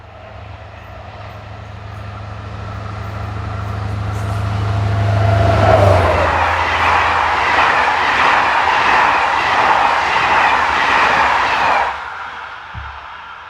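French locomotive CC72151 hauling the 07:42 Paris to Belfort passenger train on a Saturday in September 2014, its engine drone building as it approaches, then a loud rush and clatter of carriages passing close by before it cuts off.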